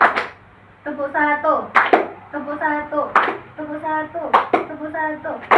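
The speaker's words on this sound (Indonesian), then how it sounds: "Tepuk satu." A group doing a rhythmic clapping game in a school counseling activity, sharp hand claps in short patterned bursts between stretches of speech-like sound. A leader talks between the clap patterns.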